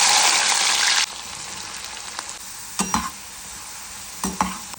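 Bitter gourd pieces frying in coconut oil give a loud, bright sizzle for the first second, then a quieter steady crackle broken by stirring scrapes and clatters near the end, with no voices.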